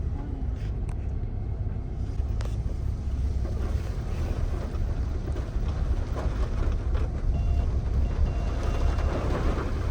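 Water from a roadside mountain waterfall pouring over a car on the road to Munsyari, a steady heavy rushing wash close by, continuous for the whole stretch with no talk.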